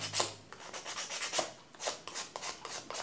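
Hand sanding along the rough edges of a wooden candle holder, a soft, quiet rhythm of repeated scraping strokes close up, with no voices.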